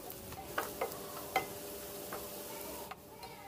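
Three medium onions frying in a pan for egg curry, a soft steady sizzle close by with a few light clicks of stirring and a faint tone, no talking.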